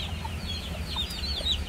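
Young chicks about a month and a half old on a farm, chirping and clucking softly at a steady stream over a low background hum, with no talk.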